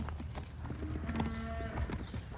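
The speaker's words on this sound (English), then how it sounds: "You can hear cows in there." Cattle lowing inside an active countryside brick barn with wooden doors, several drawn-out moos overlapping at moderate distance, muffled by the walls, with no one speaking.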